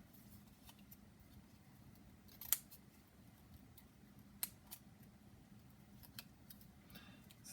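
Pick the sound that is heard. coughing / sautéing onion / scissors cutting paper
scissors cutting paper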